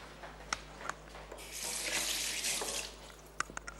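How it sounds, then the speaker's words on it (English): Hands being washed under a running kitchen tap during baking, a steady moderate water splash swelling in the middle, with a few sharp clinks and drips near the start and end; no talking. "Let me just wash my hands."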